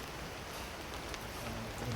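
Heavy rain falls in a continuous, even roar of drops, with no voices and no break.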